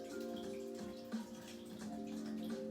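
Coconut water pours steadily into a blender with a continuous watery gush, close and fairly quiet, with no talking.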